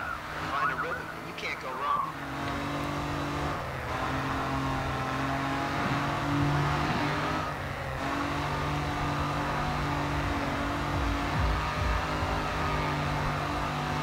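Turbocharged Scion FR-S engine in the racing game GRID 2, holding a steady drone with gear-change shifts and rises in revs throughout, loud and continuous with brief tonal dips.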